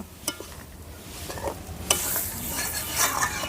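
Chicken being stirred together with boiled tadka dal in a pot over a village clay stove, dhaba style: a steady hot sizzle with scraping stirring strokes that grows louder and denser partway through. No one speaks.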